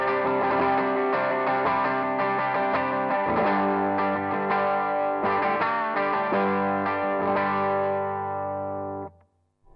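A Marshall Theatre Haze 40 combo amp on its overdrive channel, gain at a quarter, plays mildly crunchy, sustained electric guitar chords close up. The notes ring out together and fade away at the end.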